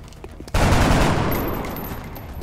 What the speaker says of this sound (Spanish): ahora aquí a freírle a disparos y a rezar para que le demos